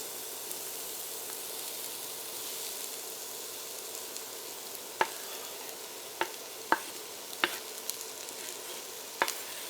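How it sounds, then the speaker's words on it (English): Onions sizzle steadily in hot olive oil in a skillet over medium-high heat, a continuous soft hiss broken by several sharp clicks and taps from stirring utensils against the pan. "Hearing that sizzle, that's what you want to hear when you put your onions in"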